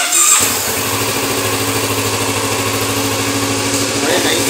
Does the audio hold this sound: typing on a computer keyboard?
no